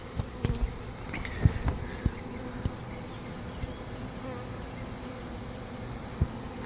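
Honey bees from a captured swarm buzz steadily all around, a dense continuous drone with occasional close bumps and thumps near the microphone, no talking.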